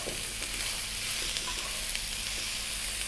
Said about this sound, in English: I'm going to add my bell peppers, my zucchini or courgette or kusa